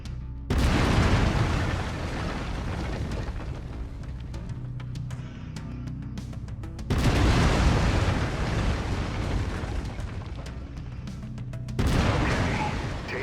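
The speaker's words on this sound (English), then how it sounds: "I've mapped the autocannon to Weapon Group 1. You're free to fire whenever you're ready." Heavy autocannon fire from a mech in Mechwarrior 5: Mercenaries, three sustained bursts of loud, booming rapid shots, each starting with a hard blast and rolling on for several seconds.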